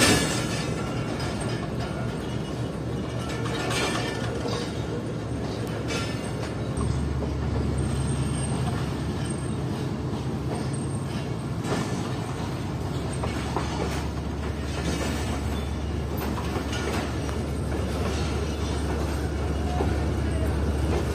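Tezgam passenger train rolling slowly along rails, a steady low rumble with a deep hum and occasional soft clanks, continuous and close throughout.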